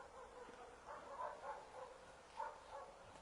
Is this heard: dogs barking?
yes